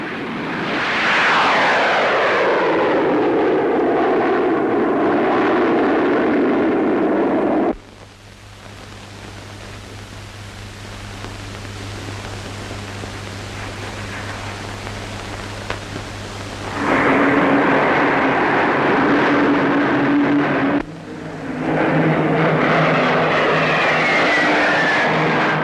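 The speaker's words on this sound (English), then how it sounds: "The Meteor, fitted with 2 Avon jets," Gloster Meteor jet fighter with two Rolls-Royce Avon jets flying at an air show: a loud, roaring jet sweep with falling whine, a quieter gap of steady noise, then the loud roar returning.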